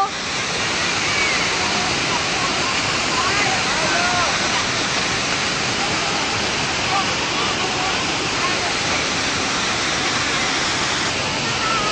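Daranak Falls in Tanay roaring as a close, loud, unbroken wash of falling water that fills the whole stretch, with a voice faintly audible under the rush.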